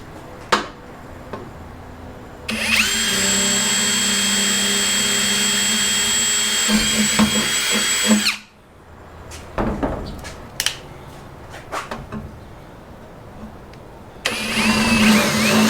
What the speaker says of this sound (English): So let me start drilling this first hole and we'll get back into it.